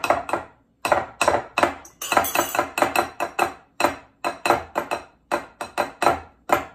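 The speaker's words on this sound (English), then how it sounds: "So I'm stirring this together" A spoon stirs a vanilla and butter mixture in a bowl, knocking and scraping against the sides in a steady run of sharp, close taps for several seconds.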